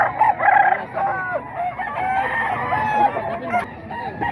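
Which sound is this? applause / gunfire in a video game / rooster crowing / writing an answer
rooster crowing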